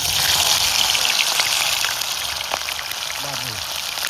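Chicken sticks frying in warm oil give off a steady, loud hiss and crackle that holds for the whole stretch, with a voice briefly speaking over it.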